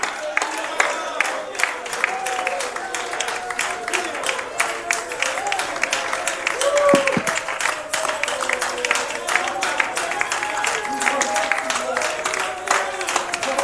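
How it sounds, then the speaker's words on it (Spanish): A church congregation applauds Jesus with a dense, continuous patter of clapping that stays loud for over ten seconds, while voices and faint tonal sounds sit underneath. "Oh, sienta libertad de aplaudirlo. Apláudela, apláudela."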